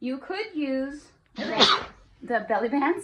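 A sudden sneeze bursts out loud and close between stretches of a woman's speech, during a talk on fitting diapers and belly bands on a male dog.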